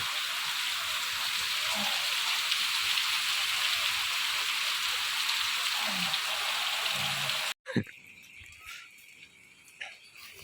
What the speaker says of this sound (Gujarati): વરસાદ આવ્યો ને જો પાણી ભરાઈ ગયું